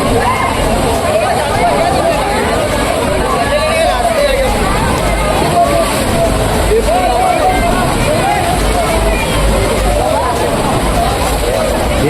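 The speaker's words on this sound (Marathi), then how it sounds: "फक्त 20 मिनिटासाठी वेव पूल चालू राहणार आहे. सो वेव स्टार्ट झालेले आहेत." Waves slosh and churn in a resort wave pool in Virar while a dense crowd of people chatters and shouts throughout. The steady wash of water sits under loud, continuous babble.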